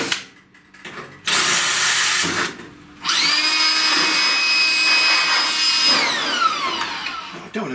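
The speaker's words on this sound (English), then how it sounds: "Put 5mm hole through here." A power drill bores a 5mm hole during a restoration job. A short grinding burst comes first, then a sustained, loud whining drill run of several seconds with a steady pitch that drops as it winds down.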